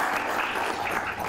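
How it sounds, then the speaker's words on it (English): Brief burst of dense, even applause from an audience at a ceremony honoring Curaçao's professional baseball players, moderately loud and sustained through the whole second-long stretch. "I want to ask your applause for the pride of Curaçao"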